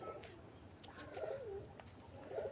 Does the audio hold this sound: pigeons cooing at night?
yes